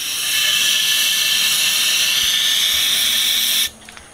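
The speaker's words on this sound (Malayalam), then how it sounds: "നമ്മുടെ ആവശ്യം കുറച്ചും കൂടി ബ്യൂട്ടൈൻ ഗ്യാസ് ഇതിൽ നിറച്ചേക്കാം" Butane gas hisses loudly and steadily as it is filled into a bottle for a homemade gas rocket, then cuts off abruptly near the end, leaving near silence.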